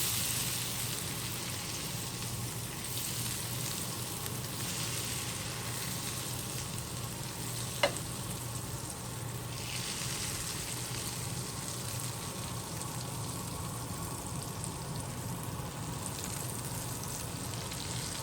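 Butter melting in a pan gives a steady, soft sizzle and crackle that runs evenly throughout, with one brief click partway and no voices.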